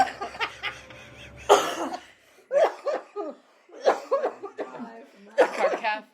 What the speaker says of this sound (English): The cacophony of coughing begins.